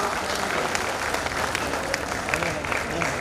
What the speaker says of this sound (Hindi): तालियों की करतल ध्वनि से अभिनंदन करें उस व्यक्तित्व का